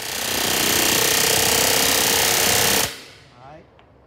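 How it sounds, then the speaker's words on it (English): Power tool hammering rapidly and loudly on the metal filler plate of a van trailer base rail, a harsh dense rattle that cuts off abruptly, leaving a short metallic ring and faint handling noise. "Now it's time to drill and rivet."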